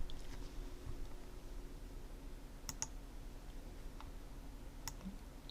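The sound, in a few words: computer mouse click in Lightroom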